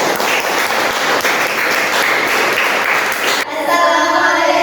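A classroom of students applauding a group presentation, loud dense clapping that stops abruptly near the end, followed by a voice and room murmur.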